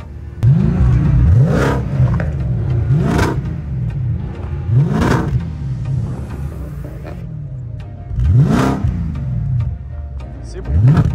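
A car engine revs through stacked exhaust outlets, one above the other, at a car meet, giving five or six loud, close surges that rise and fall, with people talking nearby.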